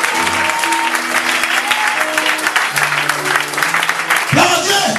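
A church congregation applauds and cheers inside the building. The clapping is loud and sustained and sounds close by, with crowd voices mixed in.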